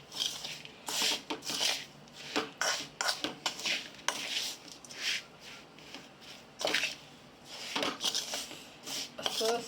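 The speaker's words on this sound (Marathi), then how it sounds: "छोट्या चमच्याच्या साहाय्याने सगळे साहित्य अशा प्रकारे मिक्स करा." A small spoon stirs wheat-flour and jaggery ladoo mixture in a dish, making close, irregular bursts of gritty scraping and rubbing strokes with brief pauses between them.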